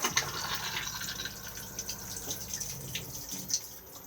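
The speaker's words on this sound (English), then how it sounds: "To open to the cassette, just slide the grey lever across and then push to flush" Cassette toilet in a Swift Lifestyle 624 motorhome flushing, with a steady rush of running water and light dripping and splashing into the bowl, close and moderately quiet, with no talking.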